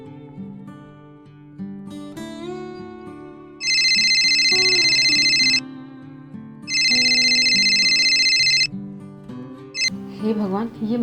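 A phone ringtone rings loudly in two long bursts of a bright electronic trill over background music, close and dominant.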